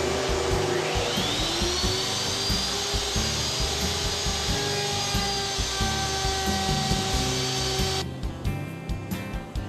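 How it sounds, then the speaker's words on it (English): A router fitted with a cove bit whines steadily as it cuts a flute in wood for a mobile kitchen island, its pitch rising as it spins up and then holding loud and constant before winding down near the end. "let me go ahead and we'll cut this first flute"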